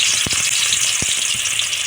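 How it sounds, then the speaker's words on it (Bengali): Hot oil sizzles and crackles steadily, with two dull thuds as pieces of bhetki fish are dropped one by one into the pan. "কড়াতে তেল গরম করতে দিয়েছি এর মধ্যে একটা একটা করে মাছ ছেড়ে দেবো"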